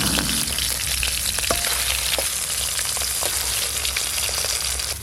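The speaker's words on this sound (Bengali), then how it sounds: "আমি তো এদিকে মাছ ভাজা করছি" Spice-coated katla fish belly pieces frying in hot oil in a pan, a loud close sizzle with scattered pops and crackles continuing steadily without talk.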